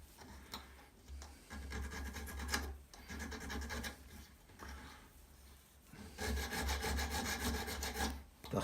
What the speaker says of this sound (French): Bon, maintenant, on va limer notre petit soulier.